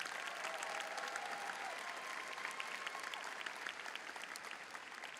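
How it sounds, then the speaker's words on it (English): Crowd applause fills a high school graduation ceremony, sustained and even, with a faint whistle or cheer at the start and dense clapping continuing steadily to the end. "Clap for them."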